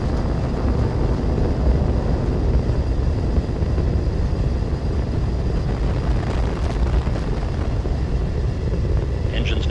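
Three liquid-fuel space shuttle main engines roar through the whole stretch of a launch as the shuttle nears transonic speed, a loud, dense and continuous low rumble with no break.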